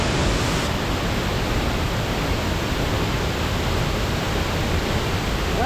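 A Bali waterfall pours with a steady, loud, unbroken roar of rushing water that fills the whole stretch evenly, with no voices.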